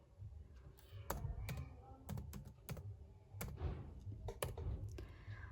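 Rapid keystrokes on a computer keyboard, a quick irregular run of sharp clicks and clacks close by with brief pauses, over a low background hum and no one talking.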